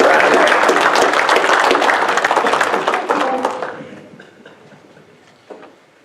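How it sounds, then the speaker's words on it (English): Banquet audience at the 2017 Freedom Motorsports Park awards applauds a racing driver, a loud dense burst of clapping that thins and fades away after a few seconds into quiet room noise. "big round of applause for Ron Cartwright Jr."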